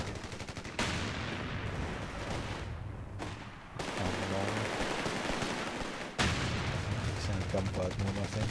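Dense gunfire and explosions from Company of Heroes 3, the World War II strategy game, roar almost without pause in loud bursts, with short dips between volleys.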